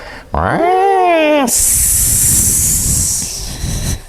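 During a playful yoga session, a person imitates an angry cat with a rising-and-falling vocal yowl followed by a long, loud, breathy hiss that fades out near the end.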